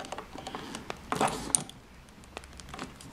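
Screws are tightened down on a duplex outlet receptacle, giving a sparse series of small metallic clicks and scrapes with a brief louder rattle near the middle, close and fairly quiet.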